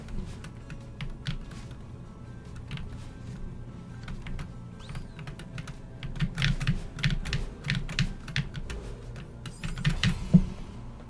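Computer keyboard keys tapped in irregular bursts while a game is played, close and clear, with a low background hum underneath and no talking.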